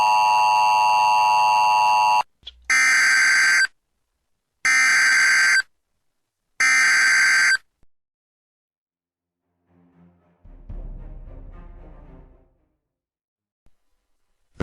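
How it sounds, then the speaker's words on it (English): Loud electronic alert tones from a local severe weather warning system test: one long buzzing tone, then three shorter bursts with silent gaps, followed by faint rumbling noise. "In the next 60 seconds, the given test alarm signal will be heard on this system."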